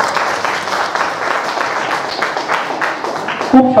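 A crowd at an outdoor rally applauds loudly and steadily, a continuous wash of clapping that swells near the end with a brief burst of other noise.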